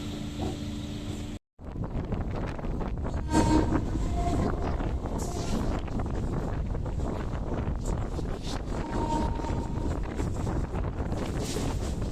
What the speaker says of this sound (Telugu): మన ట్రైన్ అయితే కాచిగూడ రైల్వే స్టేషన్కి వచ్చిందండి